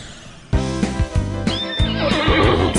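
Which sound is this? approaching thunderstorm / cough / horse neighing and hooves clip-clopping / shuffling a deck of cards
horse neighing and hooves clip-clopping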